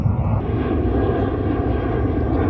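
An airplane passes overhead with a steady, loud broadband engine roar that fills the whole stretch without a break, heard alone with no talk.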